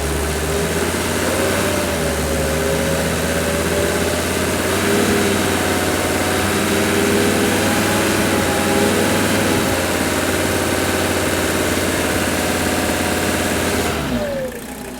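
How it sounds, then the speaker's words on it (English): A Mercedes W116 300SD diesel engine runs during a fuel system purge, a loud steady clattering drone with slight rises as it is gently revved, then dropping off near the end. "Periodically during the purge, I'll just keep racing up the engine a little bit."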